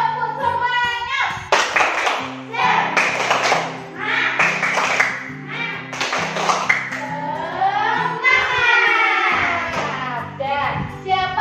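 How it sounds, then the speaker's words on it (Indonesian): A school class claps a rhythmic group spirit clap in patterned bursts, with children's chanting voices mixed loudly through the claps, close in an indoor classroom. "Kita tepuk semangat dulu."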